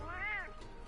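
Cat meowing in the video game Monster Hunter World, a single short rising-and-falling meow, fairly clear, followed by quiet game ambience.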